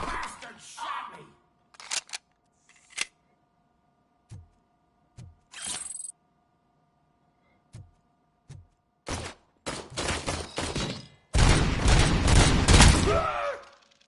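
Gunfire in the Robocop video game, sharp isolated shots spaced by silence, then denser bursts building to a loud sustained volley at the end.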